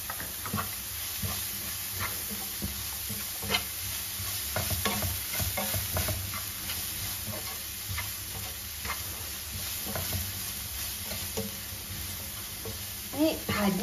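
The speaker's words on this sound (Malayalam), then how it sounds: "ഇതിലേക്ക് ഞാൻ ചതച്ച ചെറിയുള്ളി ഇട്ട് കൊടുക്കുകയാണേ" Crushed shallots stir-fry in a pan for fish curry, a steady close sizzle with repeated scraping stirs and occasional ticking pops, and a faint voice now and then underneath.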